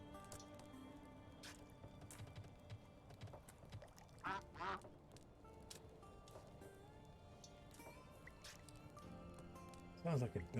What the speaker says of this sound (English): Sounds like a duck.